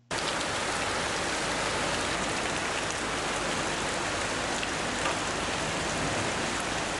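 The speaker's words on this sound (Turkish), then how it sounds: "Sabah saatlerinde başlayan ve kısa süre devam eden şiddetli yağış" Heavy rain pours down in a Turkish town during a brief, intense morning downpour that flooded streets. The dense, even hiss of rain on surfaces starts abruptly and stays constant, with no voices.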